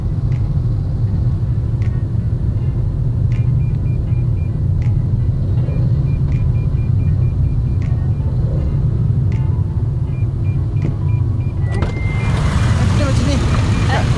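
Cars sit stuck in a Jakarta traffic jam, a constant low engine rumble with faint beeps repeating roughly every second and a half, and a louder hiss near the end.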